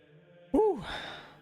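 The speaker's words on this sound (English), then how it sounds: "Hold on, I gotta yawn again." A single drawn-out human yawn, voiced and sliding up then down in pitch before trailing off into a breathy exhale, close and fairly loud against a quiet background.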